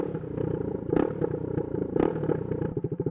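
Straight-piped 2022 Husqvarna Svartpilen 401 motorcycle exhaust crackling and popping close by, a raw rattling burble that swells twice and ends in rapid rhythmic pulses.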